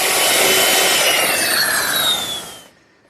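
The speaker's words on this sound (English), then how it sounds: "Next in order is to route the bottom edges of the rail and all the edges of each leg." A wood router shapes the bottom edges of a wooden rail and the edges of chaise lounge legs, a loud, close, steady high-pitched whine that cuts off abruptly at the end.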